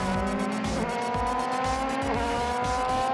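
Euroformula open-wheel race cars at the Budapest circuit roar past in a loud, continuous engine drone with shifting pitch and rapid gear changes, no voices over the steady mechanical noise.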